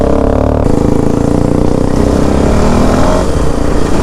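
A Kawasaki KLX 230 dirt bike's single-cylinder engine runs loud and close, a continuous throbbing idle with slight rises in revs and mechanical clatter, no talking.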